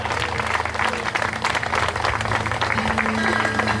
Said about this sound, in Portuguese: que as palmas possam louvar o nome do Senhor Jesus